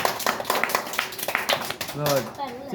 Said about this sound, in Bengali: জোরে তালি জোরে তালি দাও তাড়াতাড়ি তালি দাও